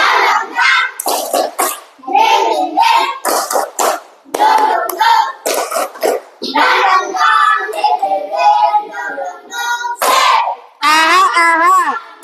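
Children in a classroom doing the rhythmic tepuk semangat clap, sharp clusters of claps in a patterned beat alternating with their chanted voices, loud and close.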